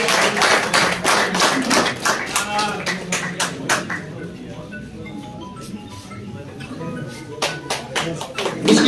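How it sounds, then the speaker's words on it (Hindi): Applause at a Kashmir pigeon sports club award ceremony, a crowd clapping loosely along with a voice over a PA, the claps thinning midway and then picking up again. "ये organiser mister Irfan Ahmad, mister Irfan साहब के लिए जबरदस्त तालियां"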